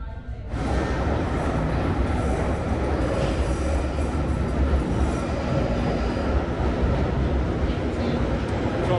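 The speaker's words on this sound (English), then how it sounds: "That's what we like to see, a nice empty tube train." Steady, loud rumble of a London Underground tube train in motion, with rattling wheels and a constant low roar throughout.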